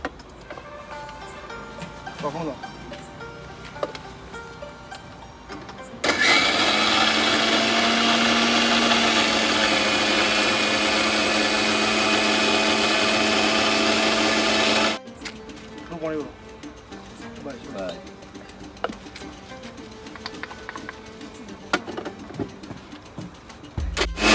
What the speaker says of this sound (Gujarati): આપણે આદુ મિક્સરમાં નાખી દઈશું